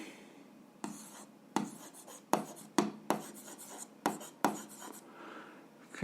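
A pen writes on paper while someone works an algebra exercise, making a close, quiet scratching broken by a series of sharp, evenly spaced stroke taps.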